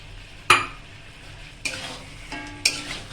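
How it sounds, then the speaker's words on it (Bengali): Mutton and potatoes with spices are stir-fried in a pot: three sharp scraping strokes of a spatula ring out against a soft ongoing sizzle, close and clear. "মাংসটা কষছি, আলুটাও দিয়ে দিয়েছি।"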